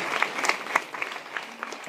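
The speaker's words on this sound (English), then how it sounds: "A big applause." Brief, scattered clapping from a small crowd, fairly light and uneven, lasting only a couple of seconds.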